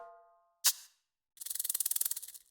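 A timbale roll from a Latin percussion sample pack: after a fading ring and one sharp strike, a fast even run of about a dozen close metallic hits swells and tapers over roughly a second, with no talking.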